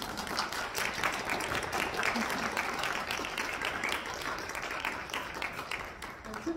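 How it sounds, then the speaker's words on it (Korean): Sustained audience applause fills the hall at a master's organ graduation recital in a church music venue, a dense, steady wash of many hands clapping from start to finish with no speech over it. "여러분들께 박수 한번 해드릴까요?"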